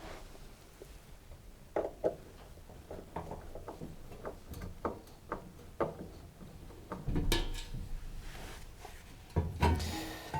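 Screws being undone and a fridge's bottom kick plate removed during a door hinge repair: soft scattered ticks and light knocks from a hand tool on plastic and metal, fairly quiet and close, with a brief louder rattle near the end.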